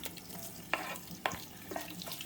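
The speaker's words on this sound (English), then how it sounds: "I'm going to fry this out until it's nice and translucent" Soft sizzling of onions frying in oil with whole spices in a pan, with a few sharp clinks and stirring scrapes; close and fairly quiet, no talking.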